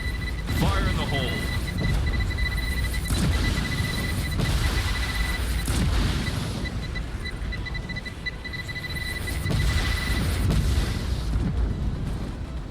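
Explosions in a video game, repeated deep booms and bursts spread across a continuous rumbling soundscape with high electronic tones, while someone talks over them.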